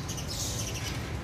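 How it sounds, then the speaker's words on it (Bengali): Doves in a rooftop cage give faint, soft calls against a quiet outdoor background. "সব ঘুঘু পাখি।"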